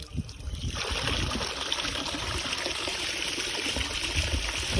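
A tap runs steadily after a short quiet start, a close, continuous rushing hiss of water with no talk over it.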